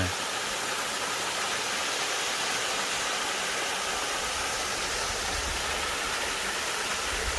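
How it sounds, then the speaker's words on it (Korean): Water rushing down a stream in a valley village, a steady, loud, broadband roar of flow that holds unchanged throughout, close by. "물도 시원하게 막잘 내려옵니다"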